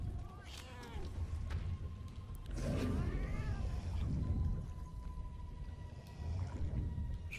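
A cat meowing in the video game Murdered: Soul Suspect, drawn-out wavering mews rising and falling over a rumbling ambient backdrop, heard several times across the stretch with faint talk around it.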